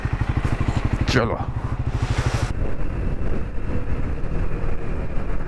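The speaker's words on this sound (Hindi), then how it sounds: "स्क्रैम्बलर शोर मचा रही है" A Triumph Scrambler 400X motorcycle engine thrums loud and close in a steady pulsing beat, revving up and then settling into a rougher drone while a voice speaks briefly over it.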